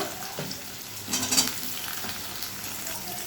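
Potato and pointed gourd frying in a pan with salt and turmeric, a low continuous sizzle with scraping stir strokes, one brief louder clatter midway.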